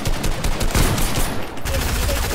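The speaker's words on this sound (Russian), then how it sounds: "Стреляют, стреляют!" Fortnite gunfire, a dense, loud burst of rapid overlapping shots that continues nearly without a break for about two seconds.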